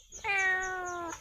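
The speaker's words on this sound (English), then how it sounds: "So we have someone here who is saying meow" A single clear meow from a cat on a village pig farm, drawn out for about a second, close and fairly loud against a quiet background.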